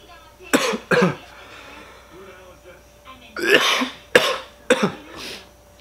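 A few loud, guttural burps come up close and alone after eating Chocolate Moruga Scorpion peppers, two early and three more later, with quiet gaps between them.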